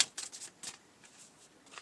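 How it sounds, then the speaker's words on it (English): Quick papery riffles of a mini tarot deck being shuffled, a few short bursts close to the mic in a quiet room. "let's shuffle these up and see what happens"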